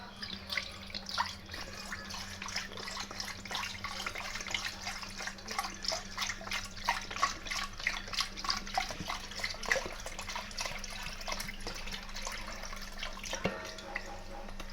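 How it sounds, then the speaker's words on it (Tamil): Cup of milk poured into a pan for making soya tofu, a close, steady liquid trickle and splash lasting several seconds, with a faint background hum and no talk. "நான் ஒரு கோத்தா பால் இந்த பேனில் ஊற்றுறேன்"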